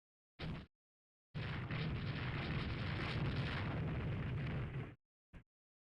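Naval gunfire and shell hits from the warship game Rule the Waves 3, with 11-inch guns firing: a short burst, then a long sustained rumbling barrage of explosions and a brief final pop, with no talk.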